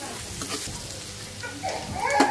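Onions fry in hot oil in a tawa pan that was just used for frying prawns, making a close, continuous sizzle. Faint voices, including a child's, can be heard in the background.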